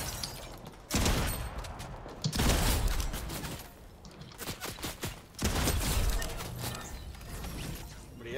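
Bursts of gunfire in the video game Fortnite, loud sharp volleys and clattering shots spread across the clip with brief quieter gaps between them.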